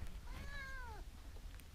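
A hungry pet cat gives a single clear meow, a rising then falling cry lasting under a second, close by over a low steady background rumble.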